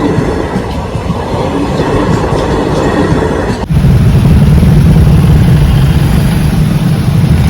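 A train rumbles past close by at a level crossing, loud and steady, its wheels clattering rhythmically over the tracks; the rumble deepens and grows heavier midway.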